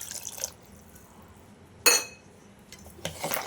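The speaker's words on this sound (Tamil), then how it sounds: "எல்லாம் சேர்த்து மிக்ஸ் பண்ணிக்கோங்க" Pumpkin sambar ingredients are stirred in a pot with water, giving a few short metallic scrapes and watery clinks separated by quiet pauses.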